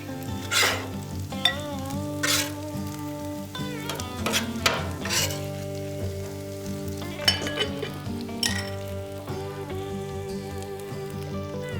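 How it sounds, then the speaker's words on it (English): Hash browns fry on a griddle beside bacon grease with a steady background sizzle, interrupted by sharp scraping and tapping spatula hits, while tonal music plays throughout. "These hash browns, I like to cook them about 6 to 8 minutes"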